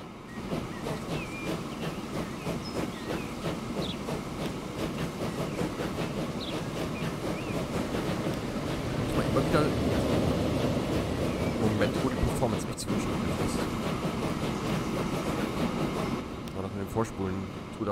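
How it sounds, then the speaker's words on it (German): A train rolls past in the rail-building game Transport Fever 2, a steady rumbling run with faint clattering that swells toward the middle and then fades, while someone talks over it throughout. "Aber den Zug, den will ich mal kurz beobachten."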